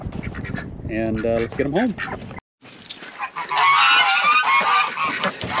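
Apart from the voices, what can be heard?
mallard ducks quacking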